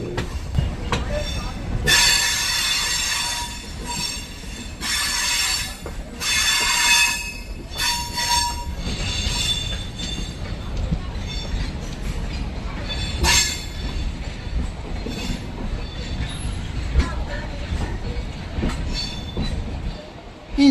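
A MEMU train runs through Jolarpettai junction station with loud rolling rumble, repeated bursts of high wheel squeal and some clatter, the noise swelling and easing across the stretch, with faint voices mixed in.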